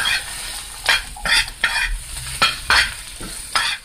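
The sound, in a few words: minced garlic and Scotch bonnet stirred into frying shrimp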